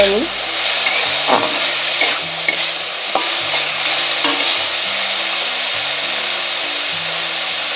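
Chopped tomato, green chillies and other ingredients frying lightly in a pan, a steady sizzle with repeated stirring scrapes and spatula knocks, and a faint background hum alongside.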